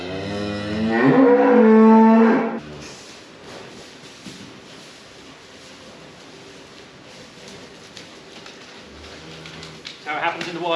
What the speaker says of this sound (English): we're going to tag some calves